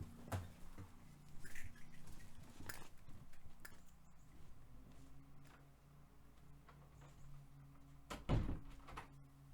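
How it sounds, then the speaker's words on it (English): A door closing indoors: faint scattered knocks and bumps over a low background hum build to a sharper thud near the end as it shuts. "Guys, I'm going to have to close the door here."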